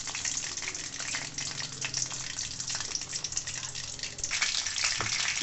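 Dried red chillies and ginger crackle and fry in a pan of hot oil for chutney, a steady bright sizzle with scattered pops running throughout at moderate level.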